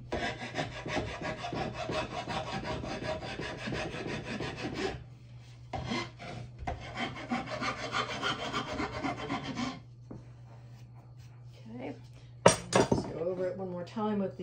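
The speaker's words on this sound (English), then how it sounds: "Time with the finer file." Rhythmic rasping strokes of a hand file rounding the sharp edge of a wooden chair frame before cane seat weaving, coming in close bursts with pauses between them, followed by a brief clink near the end.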